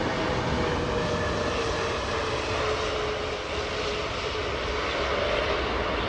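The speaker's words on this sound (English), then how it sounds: "Might be a little bit sketchy landing this big aeroplane with a trip tailwind." A large airliner lands at Heathrow with a floaty, slightly long touchdown in a shifting tailwind-to-headwind breeze. Its jet engines give a loud, close, continuous roar with steady whining tones throughout.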